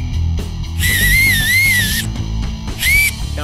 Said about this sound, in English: how to make an acorn whistle